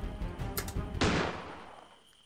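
Explosion in the horror video game Granny: a sudden loud blast erupts after a stretch of busy game noise, then a long roaring rumble slowly fades out.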